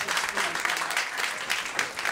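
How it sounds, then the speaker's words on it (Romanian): Studio audience claps enthusiastically at the opening of a talk show episode, a dense, steady burst of applause with faint voices beneath it. "Zici că v-a pus cineva să aplaudați!"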